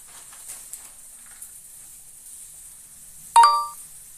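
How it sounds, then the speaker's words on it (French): A single bright internet live-stream notification chime rings out once, clear and short with a quick ringing decay, after several seconds of near silence with faint ticks. "C'est comme une notification. Une notification internet."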